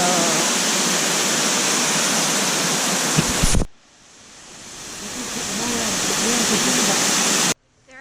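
Yeh Hoo waterfall in Bali during the rainy season sends up a loud, steady rushing roar that cuts off abruptly, then swells back gradually before stopping short again.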